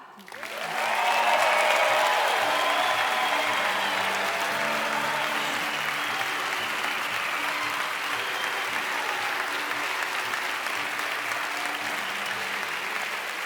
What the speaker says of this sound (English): Please give a round of applause to Rosetta.